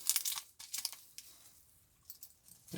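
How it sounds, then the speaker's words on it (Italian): A plastic bag holding screws is torn open, giving quiet bursts of crinkling and ripping plastic close by, followed by softer rustling and a final crunch. "apriamo il sacchetto"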